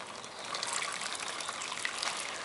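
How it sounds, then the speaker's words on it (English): Hot sparge water poured onto foil laid over a grain bed during homebrewing, a steady close trickling and splashing with slight surges, no voices. "We're going to build up a layer of water on top of this foil"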